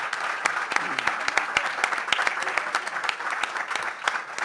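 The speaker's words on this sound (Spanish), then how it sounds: "Bueno, pues un aplauso para Alarcón, por favor" An audience breaks into steady applause for Alarcón, a dense patter of many hands clapping throughout, close and lively, with a voice faintly underneath.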